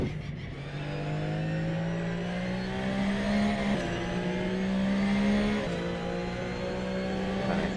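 A Porsche Cup race car laps Circuit Zandvoort in the Netherlands, its engine droning loud and steady at high revs with brief pitch drops at gear changes, heard alone without voices.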